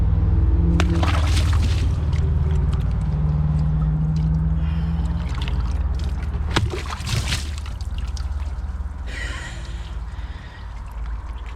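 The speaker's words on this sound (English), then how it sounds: "I'm gonna throw this into the bowl, even though it's almost overflowing, and see how much it splashes" An object is thrown into a nearly overflowing toilet bowl, splashing water in a loud burst near the start, followed by later sloshing bursts against a constant low rumble.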